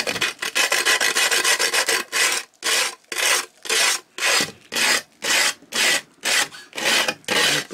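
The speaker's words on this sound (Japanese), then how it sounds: "バリを取っていきたいと思います。 で、ホームセンターでね、 サンドペーパー買いました。" Sandpaper rubbed by hand over the edges of a Trangia Large Mestin TR-209 aluminium mess tin to remove burrs, heard as close, loud rasping strokes, continuous at first, then in a steady rhythm of separate back-and-forth passes.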